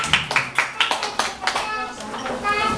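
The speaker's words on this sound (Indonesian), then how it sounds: "Tepuk tangan dong buat Mas Iwani" A small audience claps for a speaker named Iwani at an indoor gathering, the first few claps spaced and rhythmic before merging into brief scattered applause over soft talk.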